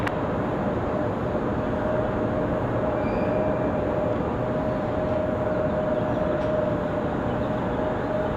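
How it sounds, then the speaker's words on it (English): An Airbus A220 jet takes off at Raleigh-Durham International Airport, a steady, loud, broad engine roar that holds unbroken throughout with a faint constant whine, and no talking. "Got our A220 getting ready for departure."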